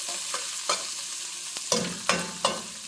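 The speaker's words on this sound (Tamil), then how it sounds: "சோம்பு போட்டு வதங்கலையும்" Fennel seeds sauté in a pan over a soft background sizzle, with about six distinct scraping strokes from a stirring spoon that come faster and louder toward the end.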